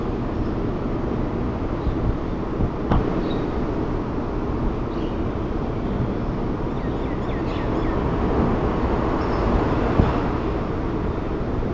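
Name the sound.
bullet train departing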